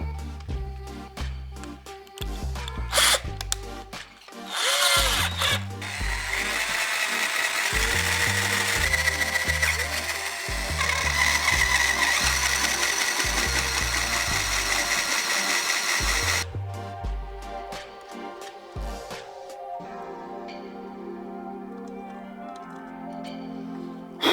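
An electric drill bores out a pilot hole to a larger size on a supercharged Yamaha FZ1 motorcycle part, with rapid bursts of close, loud whirring and chattering that start and stop, then a quieter stretch near the end.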